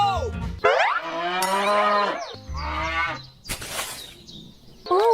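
Several cattle being fed hay moo loudly and close, with a series of long drawn-out calls separated by short pauses and a brief clatter near the end.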